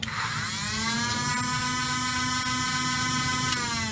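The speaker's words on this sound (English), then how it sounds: "this will let you control how fast your flywheels go. So for example, if I hold down this motor" Flywheel motors in a modded Nerf Rapidstrike blaster whir up close and loud, a high electric whine that climbs in pitch at the start, then holds steady throughout.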